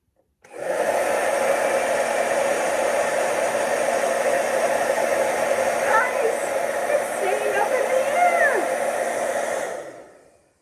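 A hair dryer blows with a steady loud whoosh for about ten seconds, then cuts off, holding a ping pong ball up in its airflow; a faint voice briefly sounds under the airflow.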